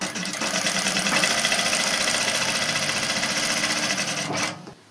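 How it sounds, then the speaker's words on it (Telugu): A sewing machine runs steadily as it stitches along the folded edge of the main cloth for a semi-Patiala garment, a close, continuous mechanical whir that stops abruptly near the end. "ఇక్కడ అంచున ఒక కుట్టు వేద్దాం"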